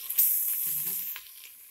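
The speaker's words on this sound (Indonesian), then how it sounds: "Kita tumis di panci yang memang akan kita gunakan untuk merendam ikan" Spice paste for Batak yellow fish sautéing in oil in a pot, a steady close sizzle with a brief stirring scrape partway through.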